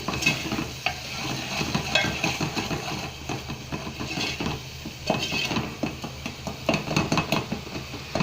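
Dry spice masala fries with ginger and garlic in oil for a Sindhi dal and vegetable dish, a continuous close sizzle broken by frequent scraping and stirring strokes against the pan, no voices.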